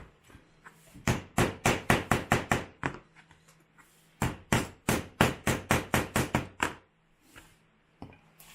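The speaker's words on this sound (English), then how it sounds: "So we lay this down on the table and pound these and kind of tighten the bends up." A hammer pounds the bent legs of a metal tripod mount resting on a table, in two fast runs of about a dozen sharp, evenly spaced strikes each, close and loud, with a short pause between runs and no talk.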